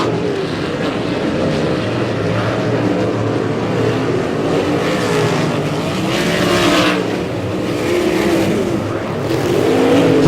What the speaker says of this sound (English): Halsey showing the way here in heat race number 2